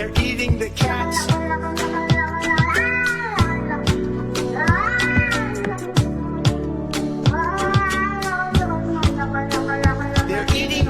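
A human voice imitates a cat, repeating rhythmic meows over a steady musical backing with beats, loud and close throughout.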